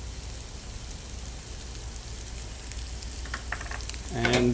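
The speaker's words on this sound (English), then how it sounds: "I actually like to toast the curry in a pan, so make it part of the soffritto" Curry powder toasts in a pan for a soffritto, a soft continuous sizzle that grows into louder crackling and a stirring scrape at the end, with a brief word spoken.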